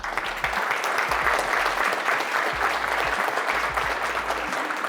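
A roomful of guests at a community luncheon applauds sponsors, the clapping dense and steady for several seconds and heard fairly close.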